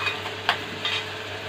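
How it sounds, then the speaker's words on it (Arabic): Eggplant frying in a pan is stirred, with a steady low sizzle and a couple of quick, close scraping clicks from the utensil, no talk. "يا حبايبي شايفين نفضل نقلب فيها كده، ما نسيبهاش عشان ما تتحرقش"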